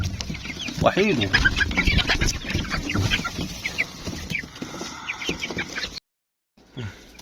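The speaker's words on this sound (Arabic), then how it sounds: "بس هو بربره مش ديك" A hen clucks repeatedly at close range, with busy, uneven bursts of clucks and squawks from poultry that continue for about six seconds before the sound cuts to silence.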